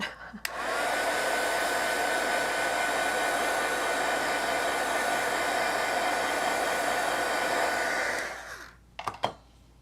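A hair dryer blows steadily on a watercolor painting, a loud, close, continuous whir for about eight seconds that starts abruptly and cuts off, followed by a few brief clicks and handling noises.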